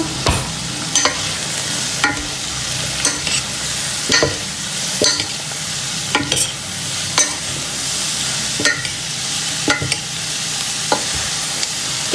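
Carrots and other vegetables sautéing in a pan: a steady loud sizzle with a spatula scraping and stirring about once a second, no voices.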